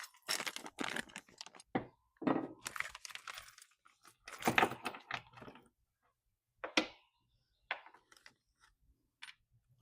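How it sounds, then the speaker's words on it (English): A plastic bag of parts being opened by hand, with sharp crinkling and tearing bursts in irregular clusters followed by a few isolated rustles, close and quiet, with no talk. "let's go ahead and open up the contents here and see what we have in the bag"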